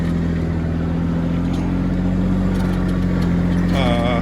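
A riding mower's engine hums steadily and close by while cutting through woods, a constant low drone with no pauses.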